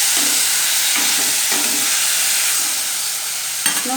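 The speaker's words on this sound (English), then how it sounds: "These tomatoes I have to saute a bit." Tomatoes sautéing in a pan, a steady, fairly loud frying sizzle with a few soft stirring scrapes and a small clatter near the end.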